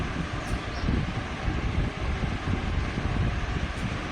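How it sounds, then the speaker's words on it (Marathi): An electric fan runs indoors in a village home, giving off a steady broadband whooshing hum that stays close and even throughout, with no talk. "इकडं मस्त फॅन चालू आहे"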